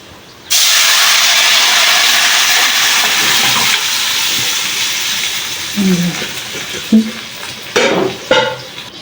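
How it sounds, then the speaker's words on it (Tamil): Kurma curry poured into a hot pan, bursting into a loud, steady sizzle and hiss that slowly eases, with a few clinks and stirring scrapes near the end. "இப்போ நம்ம வந்து குருமாவை இதில் ஊற்றிடலாம்"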